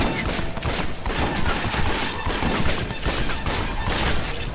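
Rapid, sustained gunfire from the Red Dead Revolver game, a loud fusillade of repeated shots with sharp bursts throughout and no pause.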